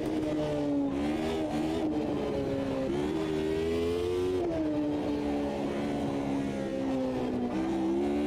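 Race car engine in the Automobilista 2 sim racing game, a continuous loud tonal drone whose pitch climbs and dips repeatedly as the car is pushed hard through gears and corners, with no voices over it.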